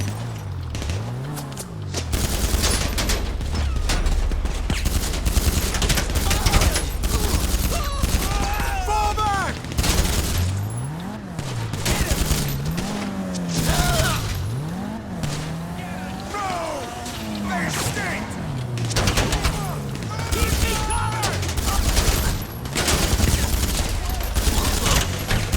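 Rapid bursts of gunfire strike the armored Duke O'Death car in GTA 5 Online, with sharp, dense volleys over a revving, swooping engine drone that rises and falls for the whole stretch.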